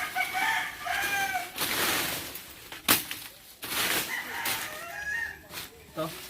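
A rooster crows repeatedly at a rural house site in Batangas, with drawn-out, fairly close calls and clucking fowl between them, while voices talk faintly nearby.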